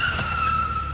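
A car brakes to a stop at a road bend, a brief high tire squeal over a low road rumble, close and fairly loud, lasting about a second.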